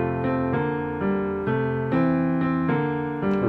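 A solo piano plays a bossa nova-style coda of "Angels We Have Heard On High", with evenly spaced chords struck in a relaxed syncopated rhythm, each chord ringing warmly into the next.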